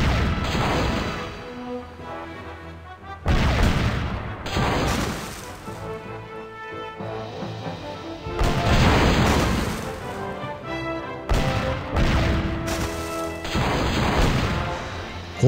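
Cannon fire in a pirate sea battle from the video game Monkey Island 3: repeated loud booming crashes and blasts in several bursts over a continuous game soundtrack.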